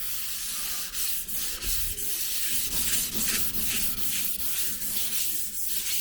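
Car body metal is sanded by hand with 220 grit sandpaper during bodywork, giving a loud, continuous rasping scrub in steady back-and-forth strokes, close up with no talking.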